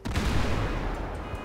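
A bomb blast in GTA 5, a single heavy explosion bursting in suddenly and rumbling loud and dense before trailing off into a crackling, fading tail.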